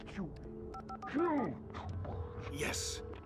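A telephone is dialed in Alan Wake Remastered, with a quick series of short tonal beeps from the keypad, followed by a ringing tone amid louder voice sounds and rustling.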